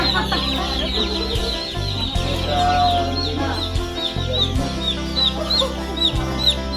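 Chickens cluck repeatedly in a busy farmyard, with several birds overlapping over a steady low background hum.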